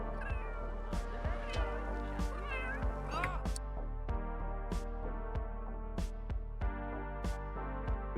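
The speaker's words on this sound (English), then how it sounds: "Is there a cat on the car?" A cat in The Sims 3 meows repeatedly, with drawn-out yowls among the calls. The cries sit over looping game music that has sharp rhythmic clicks.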